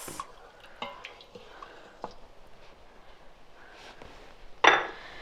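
Spoon or whisk stirring dal with about two cups of water in an Instant Pot for Gujarati dal dhokli: faint, scattered clinks and light sloshing, ending in one louder scraping splash near the end, with no talking.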